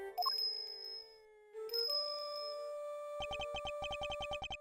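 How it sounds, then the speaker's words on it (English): Bell jingles from the video game Ace Attorney Investigations 2: bright tinkling tones with a sustained ring, then a rapid run of repeated metallic chimes near the end, loud and clear with no talking. "His appearance was always announced by the sound of bells."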